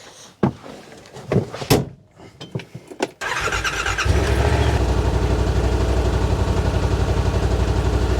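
A Yamaha RMAX side-by-side idling after a few door and cab clunks, its engine settling into a steady, close, even rumble.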